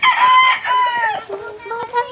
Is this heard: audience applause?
no